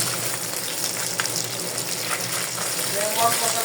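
Fish frying in a pan, a continuous oily sizzle and crackle with occasional bubbling bursts, close and moderately loud, with a voice speaking over it.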